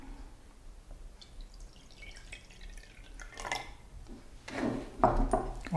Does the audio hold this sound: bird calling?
no